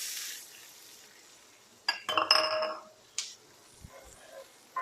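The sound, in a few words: shallots sizzling as they are added to the frying pan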